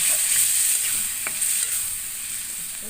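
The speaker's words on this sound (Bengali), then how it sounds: "এবার আমি চিংড়ি মাছগুলো দিয়ে দিচ্ছি। দিয়ে নেড়ে চেড়ে একটু দেখে দেব।" Prawns stirred into spiced masala in a frying pan, giving a steady close sizzle with soft scraping stir sounds and no talking.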